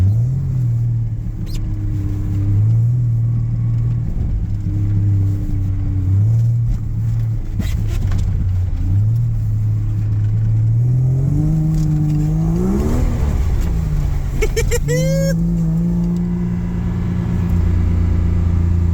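A naturally aspirated Vortec 4200-swapped Jeep Comanche driving around a roundabout, its engine droning loud and steady before revs climb sharply partway through and then settle into a higher hum.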